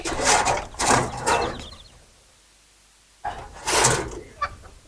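Pigeons at a farm that keeps mixed breeds of pigeon alongside cattle and goats, heard as close bursts of fluttering and low cooing, separated by a quiet gap of about a second.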